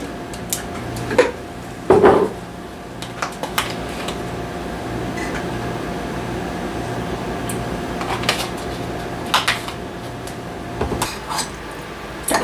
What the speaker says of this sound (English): Get that honey all nice and dissolved in there.